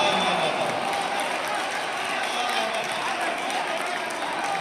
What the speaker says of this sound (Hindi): अच्छे से तालियां बजा के माहौल बनाइएगा।